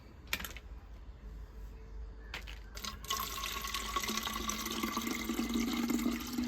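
Liquid plant fertilizer pours into a one-litre bottle with a steady, soft trickle that builds after a few light clicks of handling. The sound is close and quiet, with no talk.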